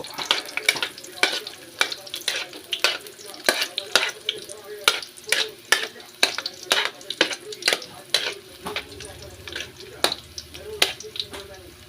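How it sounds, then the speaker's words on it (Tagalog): Mung beans sautéed in a pan with onion for ginisang munggo, a sizzle under repeated rhythmic scrapes and knocks of a spoon stirring, close and fairly loud. "Magigisa na natin ang ating munggo"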